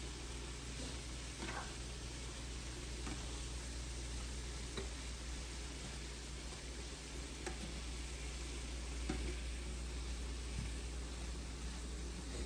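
Escoveitch sauce for Jamaican-style fish frying in a pan, a steady, quiet sizzle with faint crackles and occasional soft stirring clicks, continuous and even throughout with no one talking over it.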